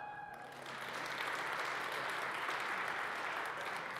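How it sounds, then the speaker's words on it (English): Audience in a large hall applauding together at a recovery event, a broad steady wash of clapping that swells in after a brief pause and holds loud to the end. "Can you clap?"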